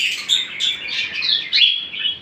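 Caged lovebirds and cockatiels chirp in a dense, bright chatter of overlapping high tweets, close and fairly loud, with no speech.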